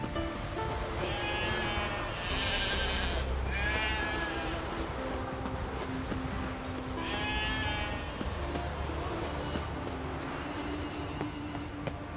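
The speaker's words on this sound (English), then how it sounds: "Hey sheep, come here." Sheep in The Witcher 3: Wild Hunt bleat in several separate wavering calls over steady ambient game noise, with soft hoof clops in places and no talk.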